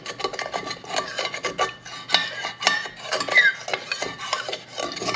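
Utensil stirring water glass crystals in a pan, a continuous close rasping and scraping with rhythmic metallic strokes against the bottom, steady and fairly loud throughout.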